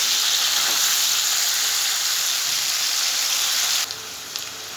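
Ground onion paste fries in a covered pan while cooking papaya curry, a steady bright sizzle that cuts off sharply near the end, leaving a few faint crackles.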